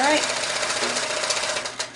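A quilting machine stitches a row across a quilt, a fast, dense mechanical rattle that runs steadily and close for a couple of seconds with no talk.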